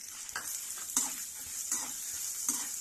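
Coriander seeds frying in a pan on low heat for a Mangalore-style cucumber sambar, a steady soft hiss with a few brief stirring scrapes, close and alone with no talk.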